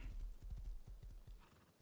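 Horse hooves clip-clopping steadily in the video game Rust, a quick even series of soft thuds at walking pace, fairly faint and close, with no voices over them.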